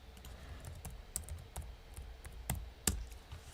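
Computer keyboard being typed on while someone looks up a search term, a short run of light, irregular key clicks with a couple of sharper taps, close by in a quiet room.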